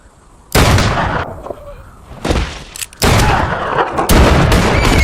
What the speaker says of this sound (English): But Boss also gets shot.